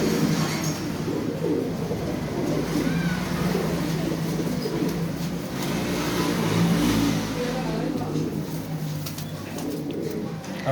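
Breeder pigeons in a Faisalabad loft coo softly beneath a dense, steady wash of background noise and passing traffic, with a faint murmur throughout.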